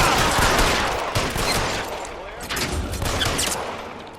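In an L.A. Noire shootout, rapid bursts of gunfire crackle and boom close by, dense and overlapping for several seconds, with voices shouting amid the shots.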